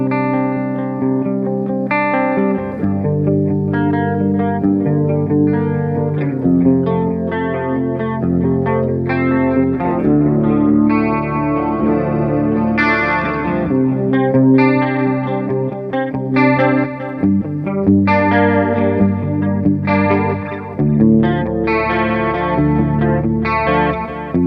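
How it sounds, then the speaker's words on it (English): Electric guitar played through an original vintage 1980s DOD digital delay sampler pedal, a steady run of sustained chords and melodic lines with repeating echoes and a chorus-like shimmer, loud and continuous with no talking. "This is the digital delay sampler by DOD. It's an original vintage 80s delay pedal."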